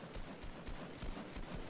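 Rapid rifle fire in the Fortnite video game crackles as a fast run of faint, distant shots, with no voices over it.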